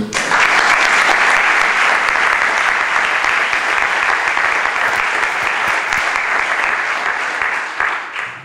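Sustained audience applause in a Bordeaux municipal venue, dense steady clapping from a large crowd that holds evenly for several seconds before tapering slightly at the end.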